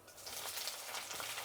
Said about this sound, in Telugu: ఇప్పుడు ఎర్రగడ్డ వేసుకుందాం,